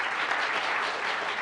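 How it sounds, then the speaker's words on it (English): A packed forum audience gives a big round of applause, producing loud, continuous crowd clapping that stays dense and even throughout. "Another big round of applause for Beth Broom."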